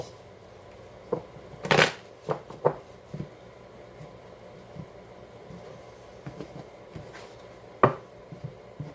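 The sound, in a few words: shuffling oracle cards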